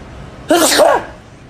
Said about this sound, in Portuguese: Espirrar.